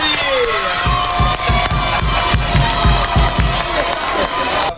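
A crowd claps and cheers at a children's sports competition, with rhythmic clapping, shouts and children's voices mixed into a loud, continuous din throughout.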